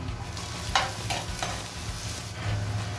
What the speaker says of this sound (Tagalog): So after natin ma-saute ang garlic, sunod natin ang onion.